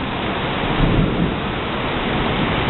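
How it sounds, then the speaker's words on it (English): A thunderstorm at Virginia Beach produces a steady wash of heavy rain with low thunder rumbling underneath, swelling briefly, close and loud, with no voices. "I guess you could go play in the rain, but it's lightning and thundering too."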